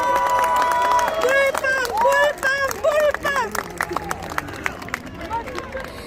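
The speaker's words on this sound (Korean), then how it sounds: "힘찬 환호와 응원의 박수 부탁드리겠습니다." A crowd at an outdoor political rally at Pyeongtaek Station cheers and applauds, with raised voices and scattered clapping rising together for a few seconds and then thinning into loose babble.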